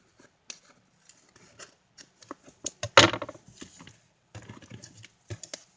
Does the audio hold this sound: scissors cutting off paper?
yes